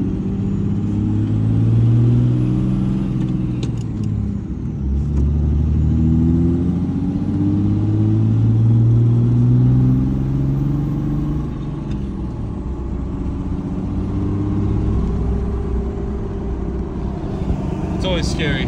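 Third-generation Cummins diesel pickup with a low rail pressure fault being test-driven, its engine droning and rising through gear changes in a deep, loud rumble from the cab, with road noise and occasional clicks.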